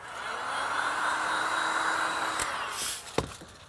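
Heat tool warming textured foam, a steady whooshing blower hiss that runs nearly throughout, then cuts off and is followed by a few short handling knocks close by.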